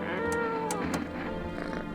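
A cat in a video game meows in a few short, close cries over a constant game background hum, with no talking.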